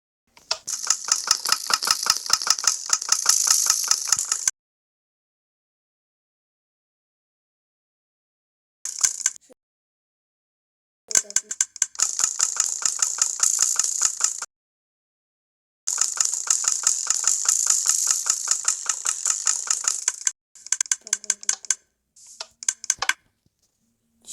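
A buggy vehicle's engine starting in Minecraft PE gives rapid, rattling, clicking bursts, close and fairly loud, in several runs of a few seconds each with silent gaps between them and no talking.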